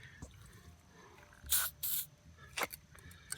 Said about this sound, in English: Spray a little silicone for some reason.